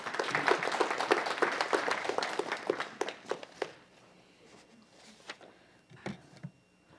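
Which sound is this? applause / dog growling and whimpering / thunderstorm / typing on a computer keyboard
applause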